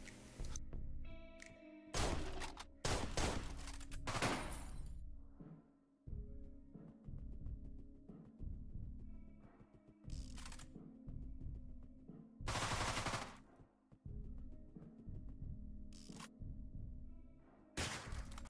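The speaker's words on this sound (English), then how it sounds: "Basically right here I get the bolt-action rifle, and well, I don't know why I missed so many shots" Loud, sharp bursts of rifle fire from the Deadbolt video game, separate cracks and short volleys with quiet gaps between, no talking.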